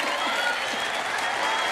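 Game-show studio audience clapping as a round of applause, a steady, even burst of many hands throughout the short moment.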